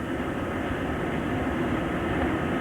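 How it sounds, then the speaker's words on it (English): A Concorde jet accelerating down the runway for takeoff, heard as a loud, steady, broadband engine roar that stays constant throughout with no speech. "Concorde is now hurtling along the concrete, accelerating to its takeoff speed of 250 miles an hour."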